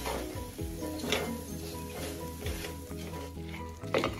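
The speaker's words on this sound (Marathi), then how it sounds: "मी ओट्यावर तवा ठेवून ठेचा रगडते आहे" Steady sizzling as green chili paste is ground on a hot iron griddle, with scraping, grinding strokes and occasional clinks of metal, close up, with no voices.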